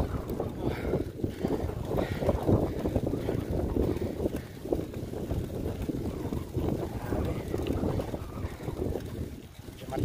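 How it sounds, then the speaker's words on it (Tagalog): Strong wind buffets the microphone in steady, rumbling gusts on an uphill climb, low and continuous throughout, with faint voices under it. "Tapos lakas pa ng hangin sa lubong."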